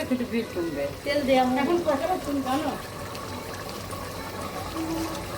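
Meat, beef or chicken, bubbling and sizzling as it cooks in a pot gives a steady, close simmering hiss, with a voice talking over it at the start before the bubbling carries on alone.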